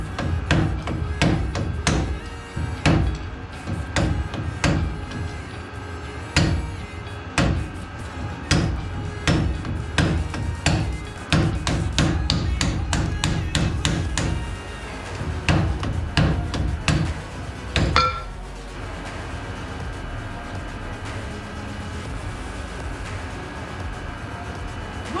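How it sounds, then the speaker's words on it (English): Repeated sharp metal hammer taps on a Toyota Land Cruiser FJ40 front axle knuckle, driving out the bearings. The blows come in quick, loud bursts of varying pace, then stop, leaving a quieter stretch of low rumbling near the end. "you can tap out the bottom first, lift the whole thing up, and then get the top out"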